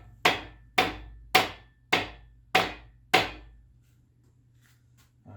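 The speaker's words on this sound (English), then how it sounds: "I feel a little awkward hitting this engine with a hammer" A hammer strikes an engine crankshaft six times in an even rhythm, each blow a sharp, close metallic knock that rings briefly, followed by a quiet stretch with faint handling noise.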